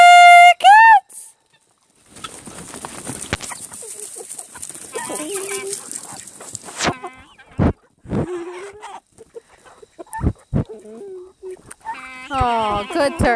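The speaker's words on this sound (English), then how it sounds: "Oh, good turkeys." A flock of turkeys comes in when called, giving scattered clucks and gobbles near and far amid rustling, after a whistle-like call at the start.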